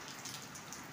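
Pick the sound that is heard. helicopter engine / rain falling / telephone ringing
rain falling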